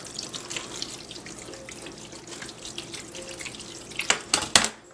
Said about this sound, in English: got a can of beef broth here, and I'm just gonna dump that in there to kind of keep them moist.